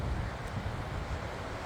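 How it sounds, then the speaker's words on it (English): The LA River runs full after the August 2023 tropical storm, a constant loud rushing roar of water mixed with wind buffeting the microphone, with no voices. "Well, I'm almost to the river and I think I can hear it."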